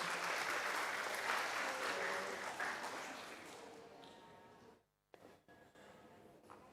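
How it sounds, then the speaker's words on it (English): A conference audience at the Open Society Conference gives a full, dense round of applause that stays loud for several seconds, then tapers off and cuts to quieter room sound with a few scattered claps. "Let's give one more round of applause,"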